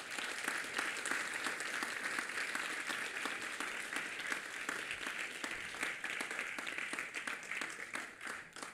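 Sustained applause from a reunion gathering honoring a colleague, dense steady clapping from many hands at even loudness throughout.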